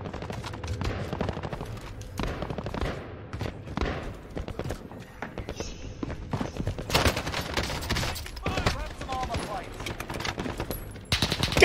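Rapid automatic gunfire in the battle royale game Call of Duty Warzone, with dense bursts of shots and thuds continuing throughout, mixed with someone talking and game voice announcements.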